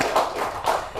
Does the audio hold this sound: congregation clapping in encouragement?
yes